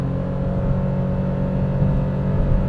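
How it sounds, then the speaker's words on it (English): The 1.2-liter three-cylinder engine of a 2015 Mitsubishi Mirage accelerates on the road, a steady, strained, buzzing drone heard from inside the car, with no talk. "it struggles to generate speed, and when doing so, it sounds like a broken paper shredder."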